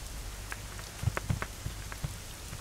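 Rain falls in the video game Little Inferno, a steady soft hiss with scattered louder droplet taps, fairly quiet and heard alone without speech.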